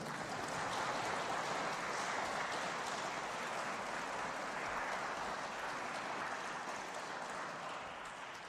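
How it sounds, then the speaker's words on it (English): A livestreamed event's audience applauds steadily, a dense, even wash of clapping that holds for several seconds and eases slightly toward the end, with no talking over it. "Everyone give a round of applause"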